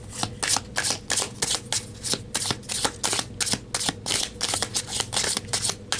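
Tarot cards being shuffled by hand, a rapid run of crisp riffling snaps repeating in quick bursts across the whole stretch, close and clear with no talking.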